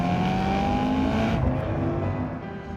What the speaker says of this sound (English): as the exhaust breaks in, the sound insulation inside it starts to break down, and it gets louder and more powerful over time